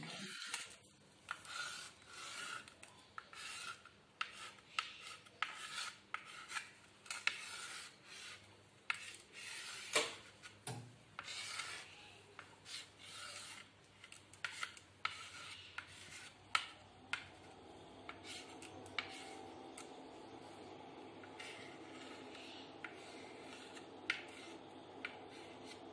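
Pencil drawing a computer on paper, a faint, close scratching and rubbing in quick irregular strokes with short pauses, growing softer and steadier toward the end.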